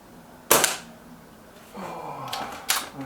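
A Reximex Ixia compact air rifle fires a JSB Match Diablo Exact pellet with one sharp, crisp crack, followed by faint mechanical clicks from handling the gun and a second snappy click near the end.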